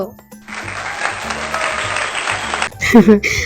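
A burst of crowd applause sound effect, steady dense clapping lasting about two seconds, cuts off abruptly before a voice speaks.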